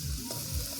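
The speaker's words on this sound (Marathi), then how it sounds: "लसूण मसाला हळद परतून घेते" Garlic, masala and turmeric sautéing in oil over a wood-fired chulha, a short burst of close sizzling and stirring with a soft scrape partway through.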